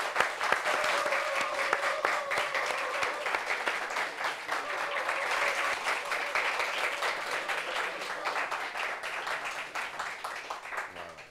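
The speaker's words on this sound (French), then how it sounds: "Applaudissements pour elle, s'il vous plaît." A studio audience on a television talk show claps steadily for a guest, producing a lively, sustained round of applause that tapers off toward the end.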